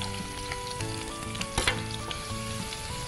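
Ginger garlic paste sautéing on a low gas flame, an even close sizzle with a brief louder stir or scrape midway and faint steady background tones.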